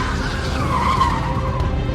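A police car skids with squealing tires during a chase in a thriller audio drama, a steady, loud screech of rubber with engine roar filling the whole moment, no voices.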